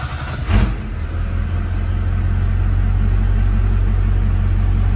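A Duramax diesel pickup truck engine idles steadily after a brief louder catch at start, a deep continuous low rumble close by with no talking.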